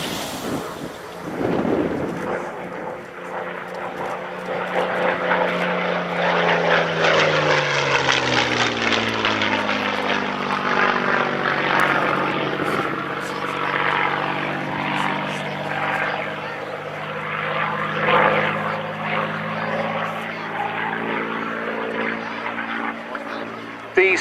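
Supermarine Spitfire at an anniversary flying display, a loud propeller engine roar with a sweeping pitch shift as it passes, sustained over a long stretch while a commentator talks over the public address.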